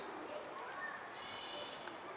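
Stray pigeons coo softly at a rooftop pigeon loft, faint low calls under someone talking nearby and a steady background hiss.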